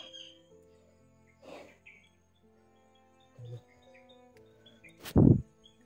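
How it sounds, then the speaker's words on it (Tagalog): Scattered bird calls and chirps outdoors, a few brief faint tweets spread apart over a quiet background, with one louder close burst near the end. "Ang daming ibon dito."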